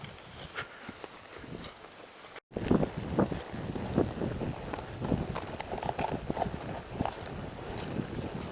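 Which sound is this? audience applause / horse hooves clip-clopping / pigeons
horse hooves clip-clopping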